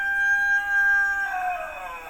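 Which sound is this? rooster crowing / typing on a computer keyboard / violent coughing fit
rooster crowing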